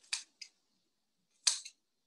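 Scissors snip through a long strand of yarn for a chunky pom pom beanie: three quick, crisp cuts, two close together and one after a pause, near and clear in a quiet room.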